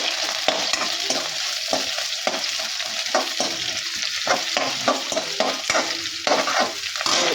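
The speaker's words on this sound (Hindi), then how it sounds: "अभी मैं ये चावल फ्राई करने के लिए, कल का बचा हुआ चावल है ये" Leftover cooked rice frying in a pan, a loud close sizzle with repeated scraping and stirring strokes of a spatula, continuous throughout, no one talking.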